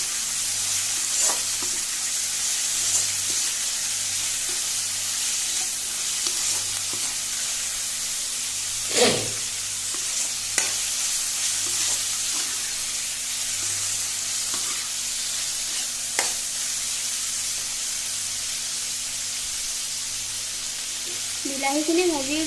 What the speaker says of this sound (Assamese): বিলাহীখিনি ভালদৰে আদা নহৰু পিঁয়াজখিনিৰ লগত মিলাই ল'ম।